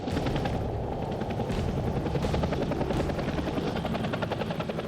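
Helicopter landing near an isolated Alaskan town, its rotor blades thumping in a rapid, steady pulse with a loud continuous engine roar, close and dominant throughout with no voices.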